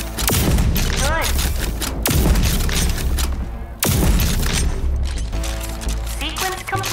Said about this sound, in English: The combat shotgun's overdrive against the simulated enemies.